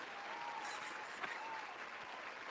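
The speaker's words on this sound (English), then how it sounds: "Don't applaud that." Faint audience applause at a live comedy show, a soft, steady patter of clapping from the room with little else audible.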